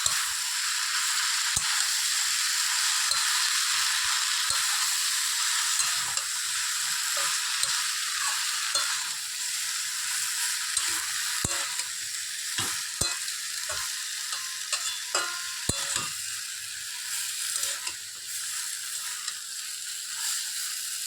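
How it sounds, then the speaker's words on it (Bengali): Chopped greens and prawns sizzle loudly in a hot pan while a spatula scrapes and tosses them in frequent irregular strokes, the frying hiss running throughout without any voices. "এরপরে কেটে রাখা শাকগুলো দিয়ে দেবো ভালো করে মিশিয়ে নেবো"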